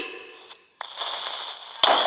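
Blocky explosions go off in Minecraft, a sharp blast near the start and another near the end, with game noise and voices in between.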